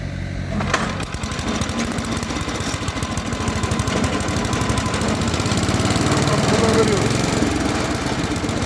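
A homemade firewood splitting machine's engine runs loud and close with a rough, steady chugging throb, and voices talk over it.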